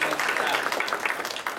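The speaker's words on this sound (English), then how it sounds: "let's give a big round of applause to her" Steady applause from an audience at a startup business forum, dense continuous clapping filling the whole moment with no pauses.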